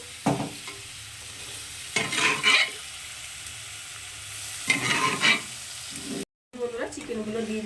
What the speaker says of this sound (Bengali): এখন আমি মশলার সঙ্গে এটাকে একটু কষিয়ে নেব খুব ভালো করে